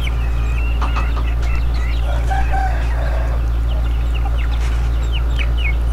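Native chickens clucking and chirping with a rooster crowing on a farm, scattered calls over a loud steady low hum.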